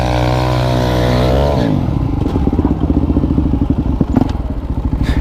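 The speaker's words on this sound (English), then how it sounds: "Little burnout action" A motorcycle at a lot day event holds a loud steady high rev, then drops into a rough, pulsing clatter as it does a burnout, close and harsh with no talking.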